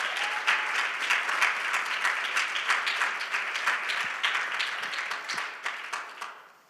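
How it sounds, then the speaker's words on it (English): A crowd applauds steadily, dense clapping sustained for several seconds before tapering off at the end. "a big round of applause for our partners at Special Olympics Games"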